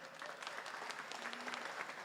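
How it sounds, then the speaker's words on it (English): An audience at a Pride legislation press conference breaks into applause, a steady patter of many hands clapping at moderate distance that carries evenly from start to finish. "yeah, you can clap"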